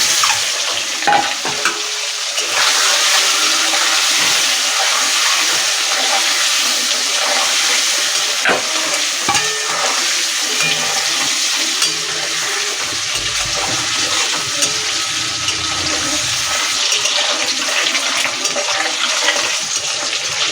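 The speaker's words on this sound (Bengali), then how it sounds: "আমার তেল গরম হয়ে গেছে, আমি ডিমগুলো এবার দিয়ে লাল লাল করে ভেজে নেব।" Eggs frying in hot oil in a home kitchen for egg palong, a loud, steady sizzle and crackle that runs without a break, with occasional faint clinks under it.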